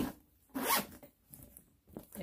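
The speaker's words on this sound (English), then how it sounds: "If you want to zip it shut" A zipper on an MCM Cognac Visetos shoulder bag is pulled shut in one quick, close rasp, followed by a few fainter small zipper ticks and rustles in a quiet room.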